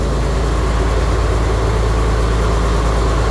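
A river launch's engine runs loud and steady, a constant low droning rumble with heavy vibration that fills the whole short stretch.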